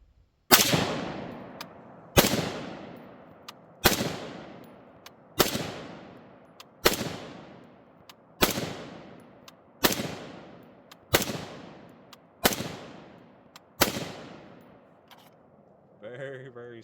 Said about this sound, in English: we're just going to see how the rifle shoots